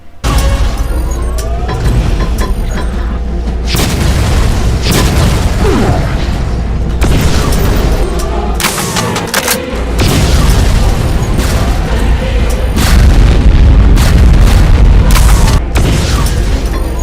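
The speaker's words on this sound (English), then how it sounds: "It shoots a bunch of fast-moving, bouncing bombs that have a moderate blast radius and lasting explosion effect." Rapid loud booms and bursts from fast bouncing bombs exploding in a modded Doom shooter game, overlapping blasts rolling almost continuously with brief lulls, heavy and close, with no talking.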